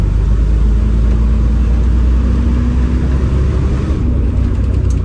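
An AEC Merlin bus engine revs loudly as the bus pulls away, a steady, dense low rumble that holds close and continuous throughout, with no voices over it.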